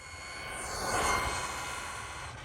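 A Losi 22S sprint RC car runs at full throttle on concrete, its high motor whine swelling as it passes close by near the middle, then fading slightly as it moves off.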